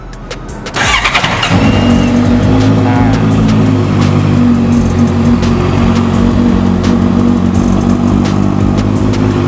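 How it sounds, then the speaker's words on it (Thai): A Honda CB650F motorcycle engine starts up and settles into a steady, loud idle with a deep, throbbing exhaust rumble that continues without pause. "เดี๋ยวเรามาฟังเสียงเครื่องยนต์กันนะครับ ว่าคันนี้เสียงเครื่องยนต์ และเสียงท่อจะเล้าใจขนาดไหนนะครับ"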